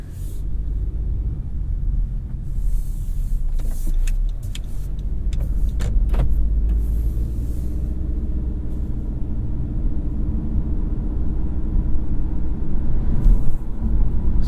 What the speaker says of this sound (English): So there's an example of us just accelerating normally